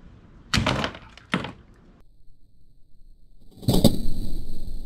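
A bolt from a mini crossbow pistol strikes a coffee maker: several sharp impact cracks close together, a pause with faint rustling, then a louder burst of clattering and rattling, with no talking.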